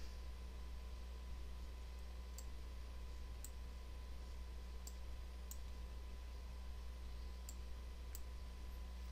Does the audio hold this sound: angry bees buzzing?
no